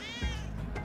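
A single cat meows in the video game Spelunky 2, a short close plaintive call that rises and falls over low background game sound.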